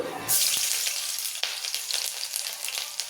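Garlic dropped into hot oil bursts into a loud hiss that settles into a steady bright sizzle with small crackles, close and continuous, no talking.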